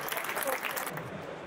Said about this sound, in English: So, applause for Margriet.